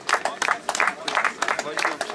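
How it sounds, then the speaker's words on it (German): A small crowd claps at a cycling race award ceremony in Mölln, quick, scattered handclaps coming in uneven bursts, close and moderately loud. "So, noch mal Applaus hier an die Klasse"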